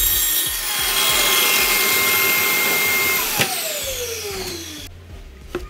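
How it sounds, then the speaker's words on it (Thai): A vacuum cleaner hooked to a power tool cutting wood for a concrete kitchen shelf at home drones loudly and steadily with gritty cutting noise, then winds down, its whine falling before it stops near the end. "ผมใส่เครื่องดูดฝุ่นด้วยก็จะออโต้ไปด้วยกันเลย"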